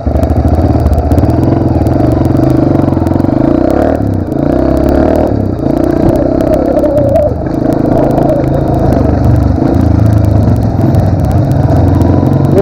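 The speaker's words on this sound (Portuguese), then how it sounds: "Então ele vai lá, colocou primeira marcha, vai embora." A Pro Tork TR100F mini motorcycle with a clutchless gearbox pulls away and shifts gears, its small engine droning loud and close with rising revs and brief dips, no voices.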